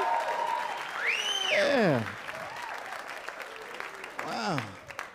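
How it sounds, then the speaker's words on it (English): Audience applause for comedian Tim Meadows at a comedy club, a loud burst of clapping and cheering with whoops that swells, fades under a voice, then rises briefly again. "clap for Tim Meadows, everybody"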